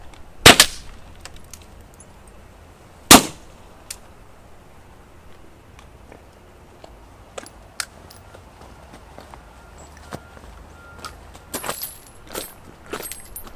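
Two sharp shots from a PepperBall launcher fired at a bullseye target about 15 yards away on an outdoor range, separated by a few seconds, followed by faint scattered clicks and handling noises.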